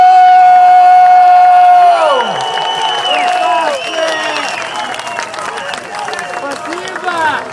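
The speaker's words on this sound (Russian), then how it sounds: "також аплодисменти. Нашим організаторам!" A crowd at the 2014 biker rally finale bursts into applause and cheers for the organizers. A sustained tone and voice give way to dense clapping and whoops that carry on loudly to the end.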